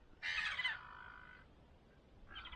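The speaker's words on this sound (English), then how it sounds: "And of course I've got a ever reliable company of seagulls." Seagulls by the Murray River in South Australia give a loud, harsh squawk that trails off, followed by the start of another call, in an otherwise quiet outdoor setting.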